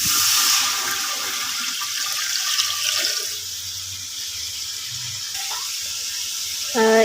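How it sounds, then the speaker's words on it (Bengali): Water pouring into a cooking pot for rice pilaf, a continuous loud gushing stream running for several seconds before a brief clatter near the end. "তার জন্য এখানে পানি দিয়ে দেব মোট 3 লিটার"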